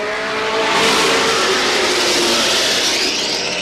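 Race cars accelerate as the green flag drops at Star Speedway, a loud, dense roar of many engines revving together that swells and holds steady.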